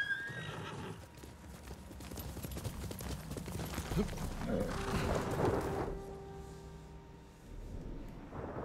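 A horse in the Ghost of Tsushima video game whinnies loudly and gallops with rhythmic hoofbeats, the clip-clop steady throughout and a second neigh near the end.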